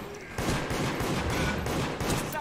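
Rapid volleys of gunfire from the Friday the 13th video game crackle in dense, repeated bursts, loud and continuous for most of the stretch after a brief quieter opening.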